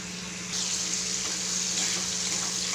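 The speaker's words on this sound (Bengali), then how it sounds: "ধনে পাতাগুলো একটু ধুয়ে নেব" Fresh, tender coriander leaves are rinsed under running tap water, a steady close rushing flow that grows a little fuller about halfway in and continues without talk.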